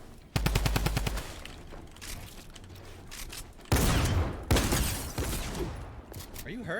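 Shotgun fire in a Fortnite Battle Royale fight: a rapid burst of shots at the start, then more loud blasts and game noises later, close and punchy, with some voice activity mixed in.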